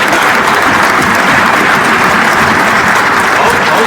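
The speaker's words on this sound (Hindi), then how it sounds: "नीतीश कुमार ने ताली बजवाई सम्राट के लिए।" Sustained, dense applause fills the space as a crowd claps for Samrat Chaudhary at a political event with Nitish Kumar, loud and continuous from start to finish.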